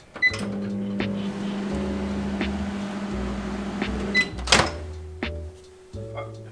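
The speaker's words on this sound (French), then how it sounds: "Ensuite, tu vas faire fondre ta margarine au four à micro-ondes." A microwave oven hums steadily while melting margarine, its low drone running for several seconds with a few clicks and a sharp beep near the end before the hum resumes briefly.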